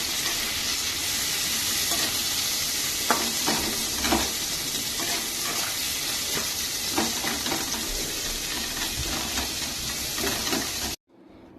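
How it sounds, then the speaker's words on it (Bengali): Onions frying in a pan for a Bengali meat curry, a steady loud sizzle with occasional stirring clatters and scrapes, running continuously before cutting off abruptly near the end. "এখানে পেঁয়াজটা ভাজা হচ্ছে"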